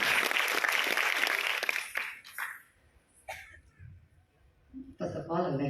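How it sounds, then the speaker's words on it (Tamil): Audience applause breaks out after a girls' classical dance recital at a salangai pooja ceremony, a dense burst of clapping that fades after a couple of seconds. Scattered voices and a few claps follow before a speaker's voice resumes. "உங்க கைத்தட்டல சொல்லுங்க."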